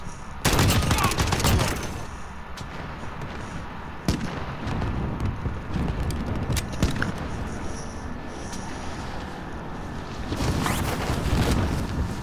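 Sustained gunfire in the Warzone video game, with a dense burst of shots at the start, scattered reports through a busy game soundscape and another heavy burst near the end.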